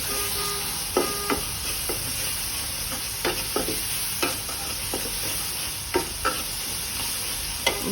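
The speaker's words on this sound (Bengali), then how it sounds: "এখন আমি দিয়ে দিচ্ছি আদা রসুন বাটা, সাথে পেঁয়াজ বাটা দিয়ে আমি মশলাটা ভালো করে কষিয়ে নিব।" Ginger-garlic paste and onion paste masala fry in a pan for beef liver bhuna: a constant loud sizzle with periodic scraping stirs of a spoon, close and without speech.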